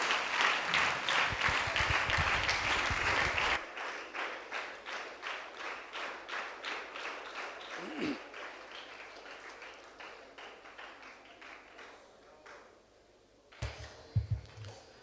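An audience applauds after a talk, starting as dense, loud clapping that thins into scattered, fading claps, ending with a few louder knocks near the close.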